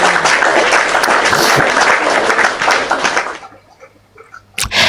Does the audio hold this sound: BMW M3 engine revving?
no